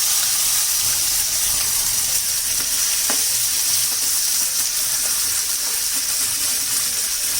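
Ginger-garlic paste frying in hot oil for matar paneer, with a loud, continuous close sizzle and hiss and occasional faint stirring clicks throughout.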